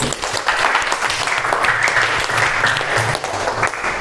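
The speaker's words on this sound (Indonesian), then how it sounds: "Beri tepuk tangan untuk Mas Faris" An audience applauding for Mas Faris after his answer, dense continuous clapping from many hands at fairly loud level, with faint voices mixed underneath.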